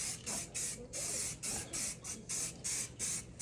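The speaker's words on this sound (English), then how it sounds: "now we're gonna put some high heat paint on there" Repeated short bursts of an aerosol can spraying high-heat paint onto a Jeep Wrangler oil pan hiss in a steady rhythm, about seven close, fairly loud sprays with brief pauses between.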